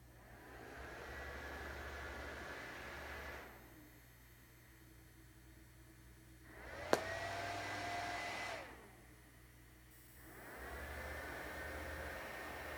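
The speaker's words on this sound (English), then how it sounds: "it's not the fan noise really, it's the whirring that you hear" An Aaxa M6 projector running with a steady, moderately loud whirr, dropping in level twice and returning, with a brief sharp click partway through and no talk.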